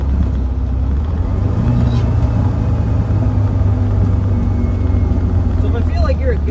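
An old car's engine idles roughly and low, a steady heavy rumble that sags as if close to stalling, heard close and loud with faint background noise.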